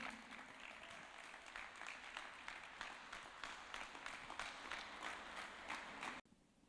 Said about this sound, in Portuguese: Mais palmas para o Senhor Jesus.